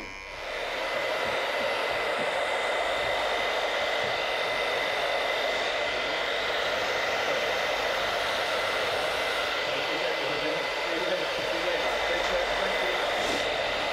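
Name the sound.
hair dryer drying hair during a haircut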